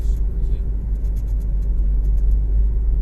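A steady low mechanical rumble from a Proton Exora's rotating drive shaft underneath, constant and droning with faint rhythmic ticking above it.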